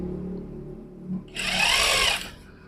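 A sewing machine stitches along the edge of a gents' kameez collar. After quiet handling sounds, a single loud burst of fast mechanical whirring lasts under a second and then stops.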